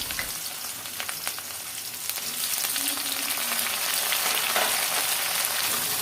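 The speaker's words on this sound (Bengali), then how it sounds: "সেই ছোলা বুটটা আমি রান্না করে নিচ্ছি" Boiled chickpeas fry in a pan with onion, green chili, tomato, bay leaf, cardamom, cinnamon and cloves, giving a steady close sizzle with light crackles that grows a little louder as it goes on, with no talking.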